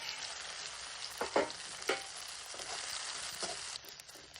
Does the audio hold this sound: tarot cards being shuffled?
no